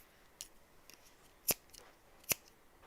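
Scissors snip embroidery floss for a pom pom with two crisp, close cuts about a second apart, preceded by a fainter snip, in an otherwise quiet room.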